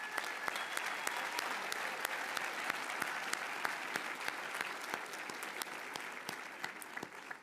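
Graduates at the 2023 Cushing Academy commencement receive a steady, even round of applause from a large crowd, heard somewhat distant and continuing without a break.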